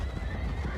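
A horse in a video game trailer gives a short, loud neigh that lasts under a second, with no talk over it.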